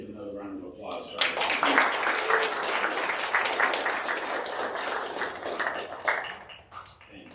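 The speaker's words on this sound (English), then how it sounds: "If we can please give another round of applause to our" Audience applause at a university outreach and engagement awards ceremony, a burst of clapping from a seated crowd that swells after a moment and thins out, with voices mixed in.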